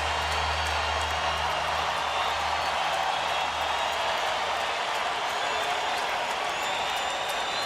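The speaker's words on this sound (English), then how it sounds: "Fans getting into it." Baseball crowd at Minute Maid Park during a White Sox at Astros game: a steady, broad roar of fans cheering and clapping that holds at an even level throughout, distant and diffuse with no single voice standing out.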